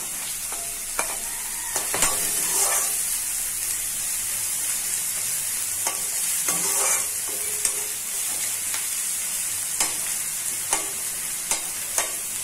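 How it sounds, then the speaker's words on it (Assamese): Steady hissing sizzle of onions and green chillies frying in a hot pan, punctuated by repeated spatula scrapes and clicks as they are stirred, close and continuous. "এনেকৈ পিঁয়াজখিনি অকণমান ৰঙচুৰ হোৱালৈকে ভাজি লম।"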